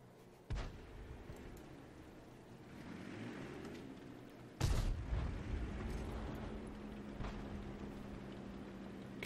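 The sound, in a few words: M12 155mm self-propelled gun firing in video game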